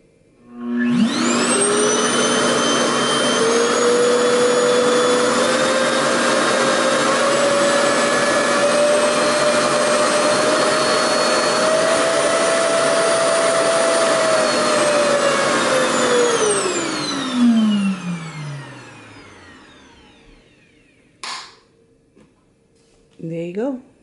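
A RevAir hair dryer runs with a loud, steady whooshing roar and a rising motor whine as it steps through its speeds, then winds down and falls silent, followed by a few faint clicks.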